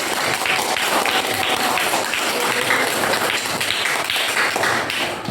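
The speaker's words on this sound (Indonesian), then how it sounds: "tepuk tangan untuk Gali." A classroom group claps together in dense, steady applause that fills the room from start to finish.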